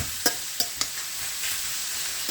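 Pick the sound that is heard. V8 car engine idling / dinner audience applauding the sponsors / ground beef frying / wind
ground beef frying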